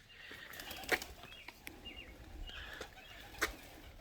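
Pigeons flap their wings in two short bursts inside an old bank barn loft, against a faint, echoing background, with a few light chirps.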